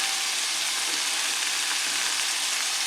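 Sliced zucchini sauteing in garlic-flavored oil in a pan, a loud, dense, continuous sizzle close up with no pauses and no voices.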